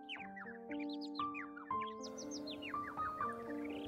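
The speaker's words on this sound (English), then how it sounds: "Little Sparrow is living happily with her kids near the sea beach." Sparrows near a sea beach chirp in clear, repeated rising and falling tweets, several calls overlapping close by, with a faint wash of background noise.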